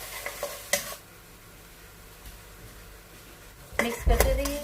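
Chicken and tomato paste stirred in a pan, a few sharp spoon clanks against the metal at the start, then a soft simmering hiss, then a burst of scraping and clatter.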